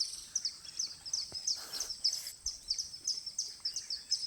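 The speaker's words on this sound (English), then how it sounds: "Sounds of the kingfisher birds" Kingfishers call outdoors in a series of rapid, high-pitched chirps repeated steadily at moderate distance, with faint ambient background.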